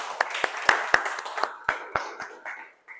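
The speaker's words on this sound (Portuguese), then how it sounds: "Vamos dar uma salva de palmas para ele." Scattered hand claps from a church audience welcoming Pastor Marcos before his morning sermon, a dozen or so sharp claps spread unevenly over a few seconds and thinning out toward the end.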